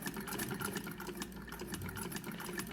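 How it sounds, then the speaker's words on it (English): A sewing machine with a binder foot attachment starts to feed and stitch fabric, giving a steady, continuous mechanical whir with a fine rapid patter that runs at an even level throughout. "I'm just going to gently start to sew"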